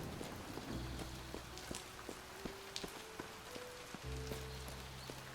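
Steady rain hiss falls across a video game scene, with faint tapping drops and occasional soft thumps, plus low sustained tones and brief clicks layered through, continuous and moderately quiet.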